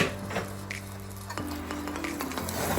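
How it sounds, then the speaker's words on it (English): A spoon stirs a thickening flour-and-cheese sauce in a pan for an onion tart, with soft scraping and clinks over a faint sizzle, close and steady. "keep stirring"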